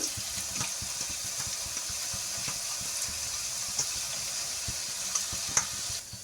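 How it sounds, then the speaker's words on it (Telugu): Boondi, small gram-flour drops for Tirupati laddu, frying in hot oil, a soft steady sizzle close by with faint stirring taps and a few sharp crackles, no talking. "బూందీ కొంచెం ఫ్రై అయ్యాక మరీ రోస్ట్గా చేయకూడదు, ఇలా పక్కకు తీసేయాలి."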